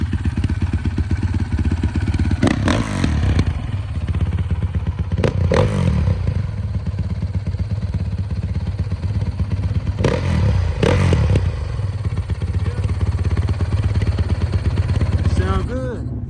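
A Honda CRF450R dirt bike with dual exhaust idles with a rapid, throbbing beat and blips into a few sharp revs, loud and close, while people talk nearby.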